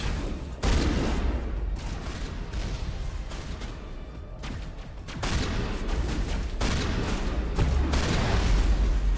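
Shotgun blasts in the sci-fi shooter Mass Effect: loud, dense bursts of gunfire and booming impacts come in two heavy stretches, with a brief lull between them.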